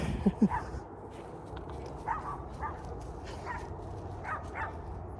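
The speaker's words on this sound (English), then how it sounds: "Another dog coming." A dog barks in two quick near yelps at the start, then fainter scattered barks and yips sound farther off over steady street noise during a walk on leash.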